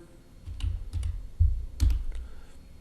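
Keys clack on a computer keyboard as a search term is entered, a handful of soft, irregular presses at close range, with no talk.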